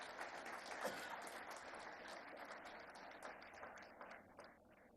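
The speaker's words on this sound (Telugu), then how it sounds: "మనస్ఫూర్తిగా మీరు వాళ్ళని అభినందించడానికి చప్పట్లు కొట్టాల్సిందిగా" Applause from an audience at a public event in Karimnagar, with a dense, steady patter of many hands clapping for several seconds that gradually thins toward the end.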